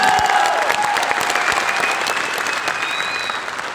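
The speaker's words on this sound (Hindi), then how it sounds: "एक बार जोरदार तालियां हम सबके भागुरु तरुण बजाज जी के, जोरदार तालियां।" Loud, sustained applause from a Modicare business event audience, a dense wall of clapping that gradually eases in intensity, with faint tonal music lines drifting underneath.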